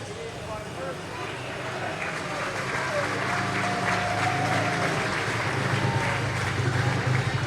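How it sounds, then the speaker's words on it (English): Speedway crowd applauding race winner Paul Starke at a Poole Pirates meeting, a steady wash of clapping and cheering over constant loud background noise, with a faint announcer voice underneath. "good round of applause there for Paul Starke"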